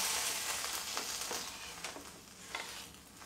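Chilies sauté in hot oil in a kadai with a soft, steady sizzle, broken by a few scraping stirs of a spatula.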